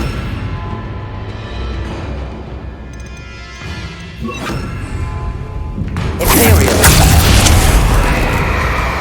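A Bombarda explosion spell in Hogwarts Legacy goes off with a loud booming blast and crashing debris after several seconds of lower combat noise and thuds, with voices heard in the fight.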